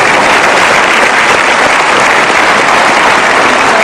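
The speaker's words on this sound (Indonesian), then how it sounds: "Kita berikan aplaus untuk sang ibu" Loud, sustained applause from a studio audience at an Indonesian talk show fills the room, a dense, even wash of clapping with no pauses.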